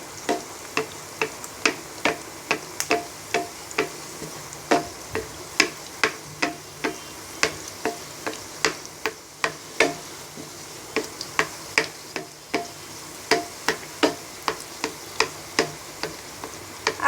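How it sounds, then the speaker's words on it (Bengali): A Bangladeshi dal puri deep-frying in oil in a pan over medium heat, crackling in a steady run of sharp pops and ticks alongside a soft hiss, close and moderately loud, with no talking. "এবার হালকা বাদামি কালার করে আমরা পুরিটাকে ভেজে নেব।"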